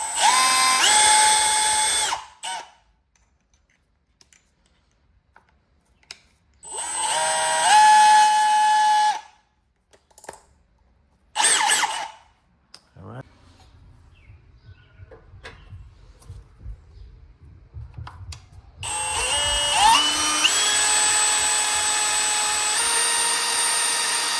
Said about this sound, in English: so I drilled the holes